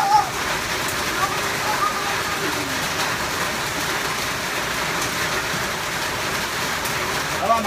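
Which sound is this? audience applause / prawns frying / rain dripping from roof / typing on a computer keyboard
rain dripping from roof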